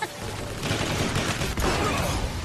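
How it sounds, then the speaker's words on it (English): Rapid sustained gunfire from an assault rifle in the Transformers War for Cybertron video game, a dense continuous burst of shots filling the whole stretch, loud and close. "I just shot Skywarp."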